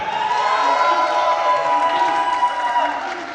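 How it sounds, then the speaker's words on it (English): A wrestling show crowd cheers loudly and continuously, a dense wash of shouts and whoops that holds steady for several seconds before easing slightly at the end. "If you think the person who should move on to the next round is Calix the Castigator, please cheer now."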